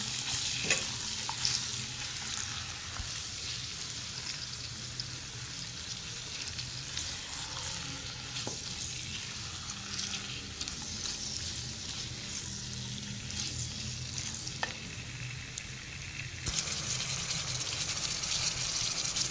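Chicken and spices fry in a pan while being stirred, with steady close sizzling and occasional scraping throughout.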